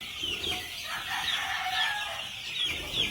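Chickens and roosters on a gamefowl farm, several birds clucking and crowing at once, a dense continuous chorus with no talk.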